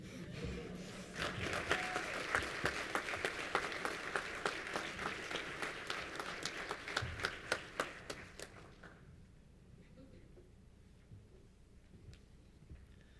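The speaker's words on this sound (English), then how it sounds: "one more round of applause for this year's inductees" An audience at a Blue Jays athletics alumni reunion applauds the year's hall of fame inductees, with dense, lively clapping for about nine seconds that then dies away into a quiet room with a few stray claps.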